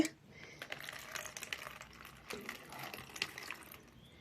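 Water runs and splashes while a pet is bathed, a close, fairly soft trickle with scattered light clatters.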